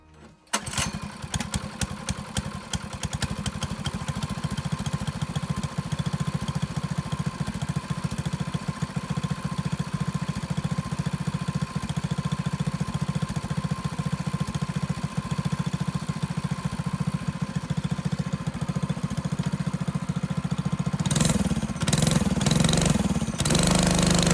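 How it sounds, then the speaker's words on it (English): A Coleman BT200X minibike engine fitted with a new muffler starts up and runs steadily at a muted idle for over twenty seconds, close by, with a brief rise in revs near the end. "So I really like the sound of this muffler"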